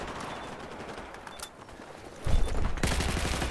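Gunfire in a Battlefield 4 match, faint rapid shots early on, then louder bursts of automatic fire kick in near the end, with no talking.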